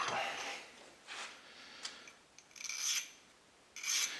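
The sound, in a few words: smoothing gun extractor with a fine stone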